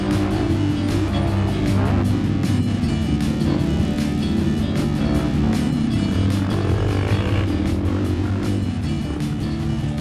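A 154cc motorcycle engine roars steadily and loudly while riding an Indonesian trail onto volcanic rock, with a dense, continuous rumble and frequent clacks and rattles throughout.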